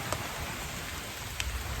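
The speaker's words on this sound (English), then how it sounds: "Rain coming in" Rain coming in over a summer vegetable garden, a soft steady hiss of drops with a couple of brief louder patters, continuous and moderately faint with no voices.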